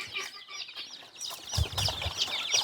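Chicks cluck and chatter close by in a steady, busy flock, with no talking.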